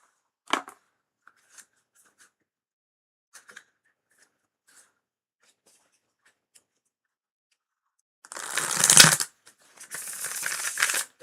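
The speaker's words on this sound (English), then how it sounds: "Getting some nice shuffles tonight" A deck of supernatural tarot cards is handled with a few sparse taps and flicks, then shuffled in a loud, dense riffle lasting about a second, followed by softer riffling.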